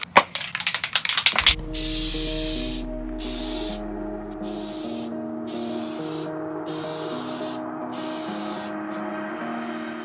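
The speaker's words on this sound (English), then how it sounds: "Get the aerosol just running smoothly. Even flow." An aerosol can of white spray paint hisses in a long, steady, even jet while coating a custom guitar, with a loud burst of rattling at the start.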